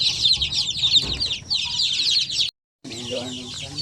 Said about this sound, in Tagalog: So, ito, yung mga bagong hatch natin ng mga sisiw.